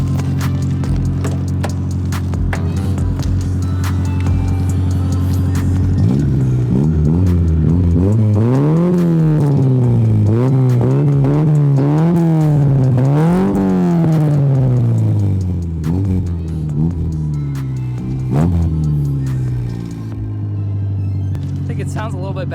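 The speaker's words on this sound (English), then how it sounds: "I'm gonna go ahead and just give it a few revs" A Honda Prelude fitted with a new exhaust revs repeatedly, its engine note climbing and falling in a series of sharp blips after an idling start, loud and close, then settling back to a rumbling idle.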